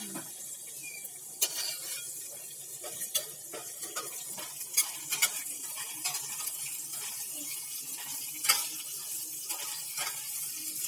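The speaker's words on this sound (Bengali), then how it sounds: "এবার গরম মশলা দিয়ে দিল। গরম মশলাগুলো একটু ফাটিয়ে দেবে, তাহলে ছিটকাবে না।" Whole garam masala spices crackle in hot oil while ghugni is cooked, giving a steady sizzling hiss broken by scattered sharp pops and ticks, with no talking.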